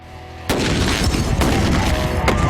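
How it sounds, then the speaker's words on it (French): A gas bag detonates with a sudden loud boom after a quiet moment, followed by a roaring blast wash and a few further sharp cracks as it dies down. "Vous êtes prêts à voir de quoi est capable ce sac de gaz?"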